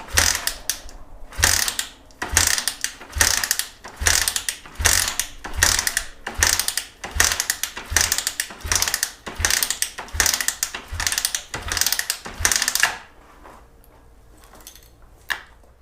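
A Suzuki GS550 flat tracker motorcycle, unstarted after sitting for a few years, is kicked over repeatedly: a steady run of about a dozen loud, close ratcheting kicks that then stop, with no engine catching.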